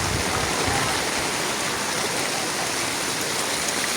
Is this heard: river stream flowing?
yes